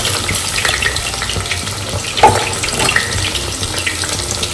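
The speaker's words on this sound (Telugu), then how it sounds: "ఆ రైస్ని వేసేస్తున్నాం" Soaked rice is tipped into a pot for a rainy-season chicken rasam, giving a loud wet rushing and sizzling splash with a brief clatter midway, steady throughout and free of talk.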